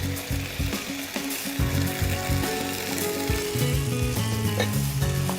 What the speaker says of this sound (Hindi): इसमें मैं डालती हूँ ये सारे ब्लांच करे हुए वेजिटेबल्स।